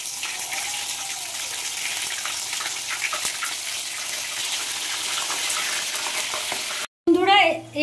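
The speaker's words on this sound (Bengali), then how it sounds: "এবার এই যে একটা একটা করে আমি লোটে মাছগুলোকে ছেড়ে দেবো তেলের মধ্যে।" Bombay duck (loitta) fish sizzling in hot oil, a steady crackling hiss throughout with brief stirring clatter, cut off by a short silence and then a louder burst of noise at the end.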